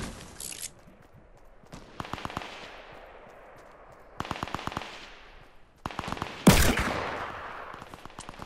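Bursts of distant gunfire from an enemy player in Fortnite Battle Royale on PS4, arriving as short rapid volleys separated by pauses, with one sharper, louder shot near the end.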